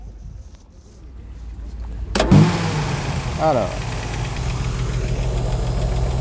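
A classic car engine at a retro sport and collector car show is started by its owner: a sharp starter crank, then the engine catches and settles into a steady, loud, rumbling idle, with someone speaking briefly before it fires.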